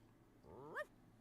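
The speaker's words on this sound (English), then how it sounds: "I said that sound is going to be this small bark" A single small, high-pitched dog bark chimes once as a channel point redeem alert on a Twitch stream, short and faint over a low background hum.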